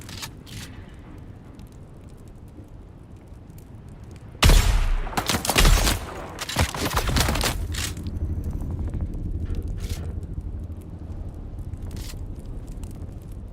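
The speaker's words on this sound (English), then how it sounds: "Two headshots into poison." Gunfire erupts in the video game Dune Awakening, a sudden loud burst of several rapid shots and sharp impacts lasting a couple of seconds, then fading into a lower rumbling ambience.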